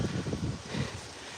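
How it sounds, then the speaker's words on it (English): Gusts of wind buffet the microphone in low rumbling bursts on a street with pavement and lampposts, fairly faint and steady, with no voices. "it is windy."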